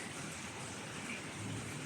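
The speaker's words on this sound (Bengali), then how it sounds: "বৃষ্টি হইলে মনে করেন যে থামে না, বৃষ্টি হইলে থামে না।" Heavy rain in Malaysia pours down as a dense, continuous hiss at fairly low level, with no voices.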